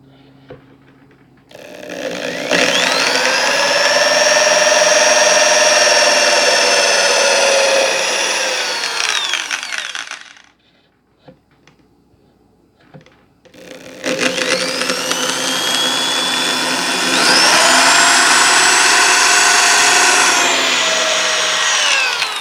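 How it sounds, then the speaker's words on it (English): A power drill whines loudly for several seconds, stops briefly, then spins up again in a second long, steady burst, close and loud, drilling neck mounting holes in a Strat-style guitar body. "Okay, drill these last two."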